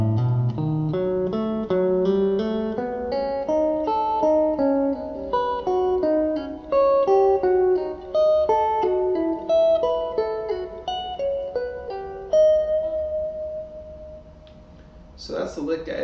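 A clean electric guitar plays a slow ascending E melodic minor lick, single notes one after another, ending on a sustained held note; close and clear.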